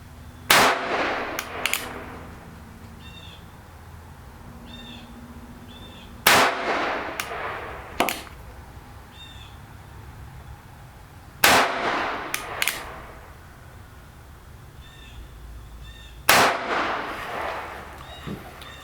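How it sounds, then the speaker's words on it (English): Cimarron Model P revolver in 44-40 fires four sharp, loud reports spaced a few seconds apart at an outdoor range, each followed by a short ringing decay and faint clatter between shots. "First shots with the Cimarron Model P"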